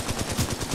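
Rapid automatic gunfire from the Titanfall 2 video game, a loud, steady burst of evenly spaced shots at about ten per second, close and continuous with no talking.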